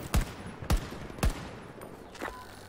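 Gunfire in the video game Battlefield 2042: three sharp, booming shots spaced about half a second apart, followed by a fainter fourth report over a low background rumble, with no talking.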